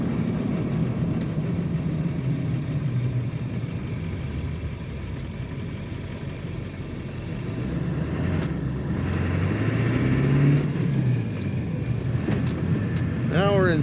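A 1999 Ford F-350 Super Duty 4x4 XLT pickup driving, its engine droning steadily from inside the cab and rising in pitch as it pulls through second gear.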